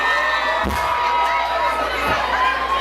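A large party crowd of graduating students cheers and shouts continuously, a dense roar of voices with occasional whoops rising above it.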